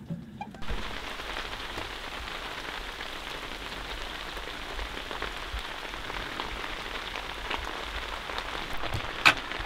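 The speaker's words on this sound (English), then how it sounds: "Rains are coming in." Steady rain falls on surfaces at a Yukon campsite, a dense continuous patter close by that holds even throughout, with one brief sharper knock near the end.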